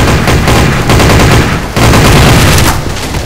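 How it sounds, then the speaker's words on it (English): Gunfire in the video game Garry's Mod TTT, loud rapid bursts of automatic shots crackling almost continuously, with a brief gap midway before the firing resumes. "Oh god, who's shooting? Who's shooting?"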